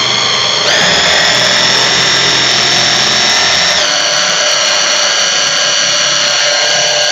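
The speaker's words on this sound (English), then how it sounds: "you know when you're food processing and it clumps down the bottom" Food processor running steadily at close range, a loud high-pitched motor whine with a step change in pitch partway through, continuing alone without talk.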